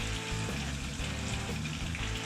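Butter sizzles steadily in a pan as flour goes in for chipped beef gravy, a dense continuous crackle with light scraping and stirring throughout.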